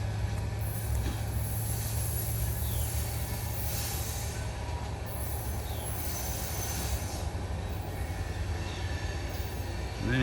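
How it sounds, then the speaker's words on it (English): Two trains pass each other at a rail line junction on a hot, humid day, a continuous loud rumble of rolling wagons with a low steady drone and occasional faint wheel squeals, no talking. "We got two trains passing right here"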